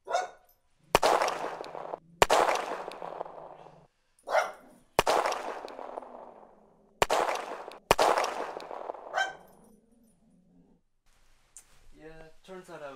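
Infected dogs in the Resident Evil 3 Remake video game bark and snarl in loud, harsh bursts one after another, with sharp impacts between them and a faint trailing growl.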